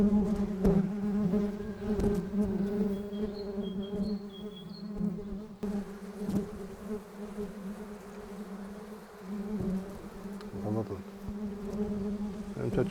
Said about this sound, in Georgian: სკებიდან მომავალი ხმაურიანი ბზუილი მიგვანიშნებს, რომ ფუტკარი ნექტრის შესაგროვებლად ემზადება.